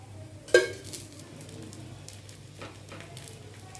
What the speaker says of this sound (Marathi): आता ह्याला वरनं असं चांगलं तूप घालून याला चांगलं भाजून घ्यायचं